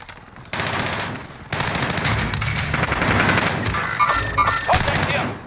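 MP40 submachine gun fire in Call of Duty Warzone: loud, sustained automatic bursts starting abruptly and running almost continuously, dense and close, with brief gaps between volleys.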